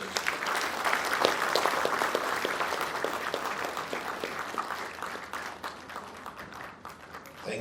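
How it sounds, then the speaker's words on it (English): An audience at a presidential swearing-in ceremony for deputy ministers in Ghana claps steadily, a broad sustained applause that slowly fades in strength toward the end. "Another round of applause for His Excellency the President"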